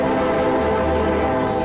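A freight train passes through a small town, its rumble and steady horn tone filling the whole short stretch, loud and continuous with no pauses.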